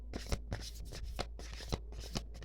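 Tarot cards are shuffled by hand close up, giving quiet rhythmic riffling and soft slaps about every half second with no talking.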